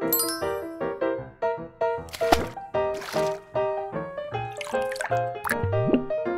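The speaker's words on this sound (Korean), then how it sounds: "와, 진짜 물소리 나요." Wet, squishy clicks and pops from a stretchy material being worked by hand, with bright ringing tones running through and a soft sloshing, water-like quality.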